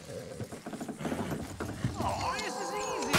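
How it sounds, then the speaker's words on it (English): Horses in Red Dead Redemption 2 clip-clop with rhythmic hoof beats as they pull a load, with creaking mechanisms, a whinny, and people talking over it. "Horses will pull it clean down."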